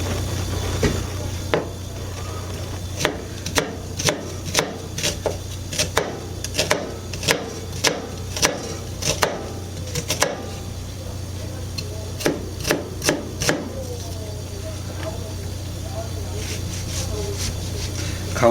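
A knife chopping an onion into small squares on a board, a steady series of sharp knocks that slow and thin out later, with a voice talking throughout.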